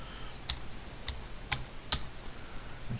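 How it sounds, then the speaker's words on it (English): Typing on a computer keyboard in amateur radio logging software: four sharp, separate keystroke clicks, close and clear, spaced about half a second apart over a quiet hum. "If you type in a call sign"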